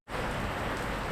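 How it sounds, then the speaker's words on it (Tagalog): Steady rain pours down on a rainy day, a dense, even hiss of many drops that starts suddenly and holds constant at close range, with no voices over it. "maulan pa rin"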